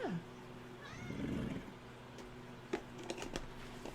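A cat meows in short rising calls amid a home setting, with faint background voices and a steady low hum, plus a few sharp clicks near the end.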